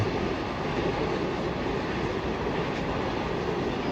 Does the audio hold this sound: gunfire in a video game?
no